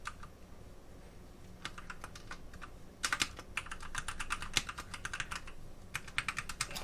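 An email address being typed on a computer keyboard: close, crisp key clicks arriving in irregular bursts and quick runs over a quiet room, with no talking.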